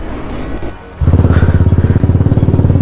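A motorbike engine kicks to life after a quieter start, then settles into a loud, close, rhythmic idle with steady chugging pulses on a ride through Niti Valley, Uttarakhand.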